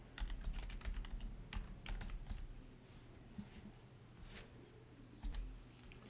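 Someone types a password on a computer keyboard: quiet, close bursts of rapid keystrokes, then a pause, then a few more taps.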